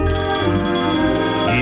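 Telephone bells ring steadily and loudly in a 1998 MCI television commercial, a continuous electronic ringing with no talk over it.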